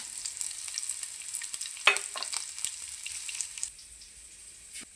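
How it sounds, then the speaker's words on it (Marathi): Chopped chillies, coriander and minced garlic sizzle and fry in a pan for a home rice dish, a steady close crackle with a sharper scrape partway through before the frying quiets near the end; no talk. "चिरलेली मिरची आणि थोडीशी कोथिंबीर टाकून परतून घेऊया"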